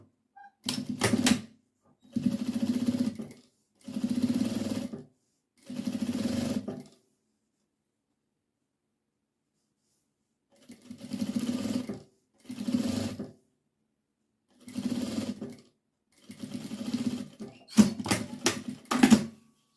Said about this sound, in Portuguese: eu vou passar uma costura de pés-ponto bem aqui nesse tecidinho branco, para prender essa faixa na nossa fraldinha